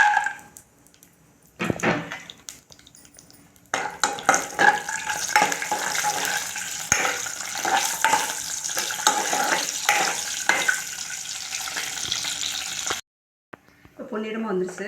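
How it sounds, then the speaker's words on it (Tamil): Cashews fry in ghee in a pan for a Chettinad sweet, giving a steady close sizzle and crackle with stirring sounds, bracketed by quieter moments at the start and end. "கொஞ்சம் நெய் ஊற்றி முந்திரி பருப்பு வறுத்துக்கலாம்."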